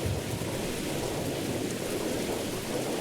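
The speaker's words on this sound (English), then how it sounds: "the rain sounds tend to be very loud" Steady, loud rain pours without a break in the horror video game Mothered, with a low rumbling of thunder running beneath it throughout.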